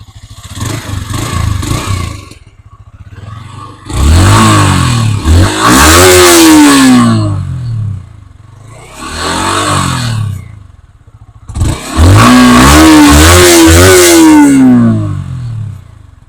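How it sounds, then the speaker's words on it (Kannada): A Yamaha R15 150cc motorcycle with its stock exhaust revs hard in four loud bursts, each climbing to a high whine and falling back to a low idle between blips. "So this is the stock exhaust ನೋಡಿ ಇವಾಗ."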